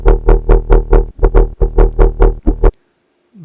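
A distorted bass synth patch with polar distortion, bounce wave shaping on the positive side and vertex on the negative, pulses in a loud regular run of about a dozen wobbling notes before cutting off.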